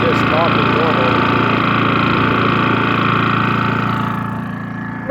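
A 2023 Harbor Freight 3500-watt super quiet generator runs steadily at close range with a smooth, even engine hum, easing slightly quieter near the end.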